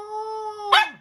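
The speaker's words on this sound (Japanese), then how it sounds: "元気よい犬の鳴き声が、" An energetic dog lets out a drawn-out whining tone that breaks into one short, loud bark close by.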